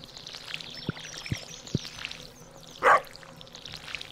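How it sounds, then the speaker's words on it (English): A watering can being refilled with water in the farming game Stardew Valley, a single short splashy gush near the end after a few faint ticks, over a soft background. "Alright, I'm gonna fill the water can."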